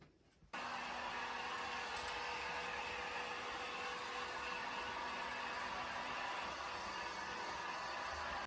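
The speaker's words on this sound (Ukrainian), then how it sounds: "феном прогріваю, плівочка стає м'якою" A hair dryer heating plastic film blows steadily at close range with a constant whooshing hum, running without pause.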